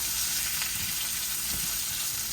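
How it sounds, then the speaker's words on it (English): Beef and zucchini sizzle loudly in a pan, a constant dense frying hiss under a few soft stirring scrapes from a utensil. "Going to give that some stir."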